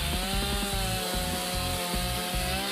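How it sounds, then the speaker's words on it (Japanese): A chainsaw drones steadily, its engine pitch dipping in repeated surges as it bites through wood. "みんな、チェーンソーの時間よ。"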